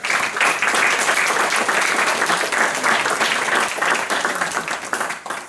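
A concert audience at a folk song event applauds, dense sustained clapping from many hands that stays loud throughout and fades slightly at the very end.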